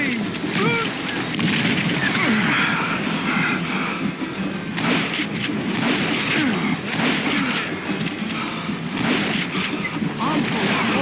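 Gunfire from a Western shootout in Call of Juarez: Gunslinger, a dense, continuous barrage of shots and thuds mixed with busy game noise and a faint voice.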